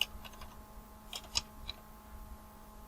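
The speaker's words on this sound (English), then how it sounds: "Type in powdered blue" Typing on a computer keyboard, a quiet scatter of light key clicks at close range, with a brief cluster of quicker taps in the middle.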